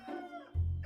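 A fighting rooster kept for breeding gives a short, loud cluck-like call, heard up close with no talking.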